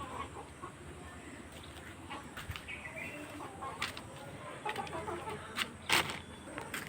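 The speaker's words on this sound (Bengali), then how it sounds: "মুরগিগুলো খাচ্ছে হেবি সুন্দর করে" Hens and a rooster feed together with faint, scattered clucks over a low, noisy outdoor background, with a few sharper calls near the end.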